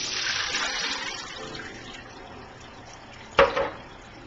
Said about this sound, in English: the next step is just to strain them out of the water